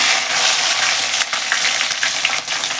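Chopped big onions dropped into hot oil with dried red chillies and curry leaves for mutton gravy, giving a loud, steady sizzle with a few stirring scrapes and no talk.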